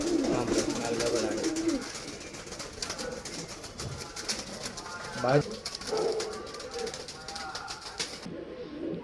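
Girebaaz pigeons cooing, including a male Roshan pigeon, a soft low rolling coo repeating through the clip at close range, with a little wing flutter and some voices in the background.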